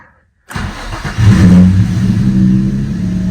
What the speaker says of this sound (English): Oh, yes, smooth idle